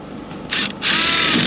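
A power drill drives short tech screws, close and loud, with a quick whir, a brief pause, then a longer steady spin-up.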